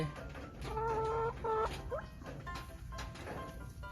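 Several laying hens cluck and squawk in short bursts, close by, over a low rustling background.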